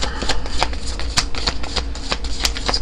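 Tarot cards are shuffled by hand, a close, steady riffling patter with brisk repeated slaps and flicks through the whole short stretch.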